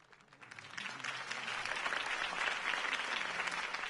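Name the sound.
applause after campaign speech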